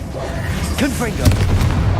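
A Confringo spell blast in Hogwarts Legacy, a short booming burst with a rumbling low tail, heard close and loud alongside faint game effects.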